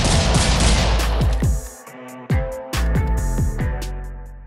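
Desert Eagle pistol shots in the Critical Ops video game ring out in a rapid string of loud, sharp reports with echoing tails, fired while crouched and heard alone.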